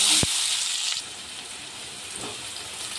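Onions dropped into hot oil for a curry hiss and sizzle with a bright, broad crackle. A sharp tap starts it, then a steady frying hiss continues alone, loud and close.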